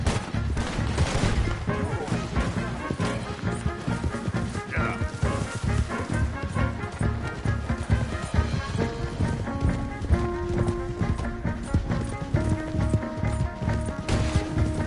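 Red Dead Redemption 2 shootout on horseback: dense, continuous gunfire of rapid shots mixed with galloping hooves and a constant roaring bed of action, with occasional shouted voices.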